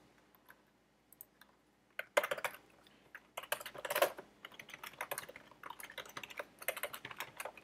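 Code being typed on a computer keyboard: close, crisp key clicks arriving in quick irregular bursts after a quiet start, with short pauses between runs and no talking.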